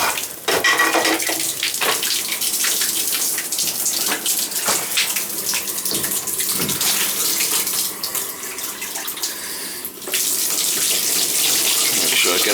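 Water runs steadily from a tub shower valve spout into the bathtub, a continuous close splashing rush with a few brief clatters, and no talk over it.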